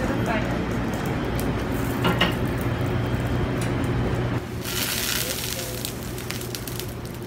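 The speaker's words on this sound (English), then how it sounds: "It's sizzling" Vegan bibimbap with mushrooms, seasoned bean sprouts and tofu crackles and sizzles in a hot bowl, a steady close hiss that lasts throughout, growing brighter near the end, with voices faintly underneath.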